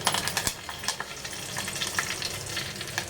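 Curry leaves hit hot ghee already crackling with cumin and mustard seeds, giving a close, steady sizzle with bright popping spatter throughout and no voices.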